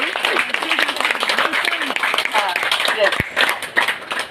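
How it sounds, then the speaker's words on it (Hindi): A crowd at a business leadership speech event claps steadily with a busy patter of applause while a voice speaks loudly over it. "थोड़ी ज़ोरदार तालियां बजाइए"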